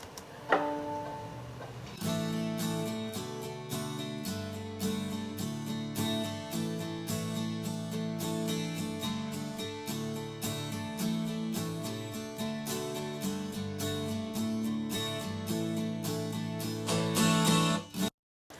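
Strummed acoustic guitars play a steady, bright chord pattern with no voices, ending with a final strum that cuts off.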